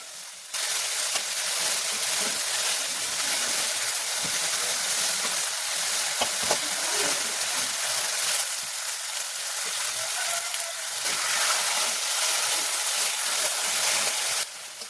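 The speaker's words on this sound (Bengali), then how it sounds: "মশলাটা ভালোভাবে কষানো হয়ে গেছে, এখন আমি মাংসগুলো এর ভিতরে দিয়ে দিচ্ছি।" Large pieces of meat hiss loudly in a spice masala inside a small wok, a dense, continuous sizzle that starts abruptly, with occasional stirring clatter and scrapes.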